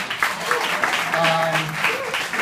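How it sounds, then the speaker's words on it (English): Audience at a Beverly Hilton Hotel alumni gathering claps steadily for a short burst, a dense patter of many hands with a few voices and whoops mixed in. "A little clap for that."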